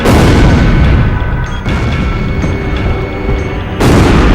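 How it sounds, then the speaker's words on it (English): Bombs explode in Ace Combat Zero: The Belkan War, a continuous loud, heavy rumble of blasts and booming detonations with dense low-end roar, a brief dip in intensity midway before surging again. "They're just tossing bombs all over the place"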